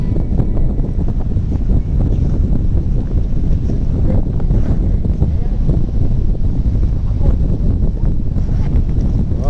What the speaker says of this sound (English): This is some of the most wind we've ever been in on a hike.